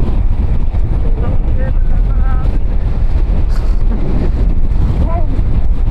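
Heavy wind by the sea roars across the microphone nonstop at Malico, San Nicolas, Pangasinan, with faint voices in the background.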